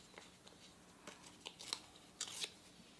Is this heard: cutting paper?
yes